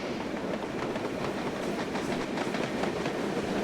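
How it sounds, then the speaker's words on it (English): Train in Train Simulator rolling past, a dense continuous rumble with rhythmic clickety-clack of wheels over rail joints, loud and close throughout with no speech. "here's the train passing us."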